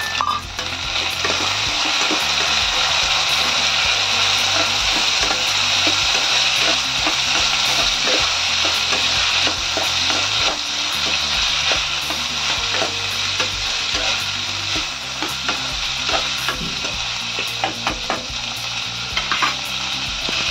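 Raw green peas frying in a pan for kurma, a dense, continuous sizzle with scraping stir strokes, loud and close throughout.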